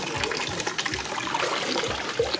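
Water from a fountain runs and trickles steadily in a broadband wash, moderately close, with faint low thumps underneath and no talking.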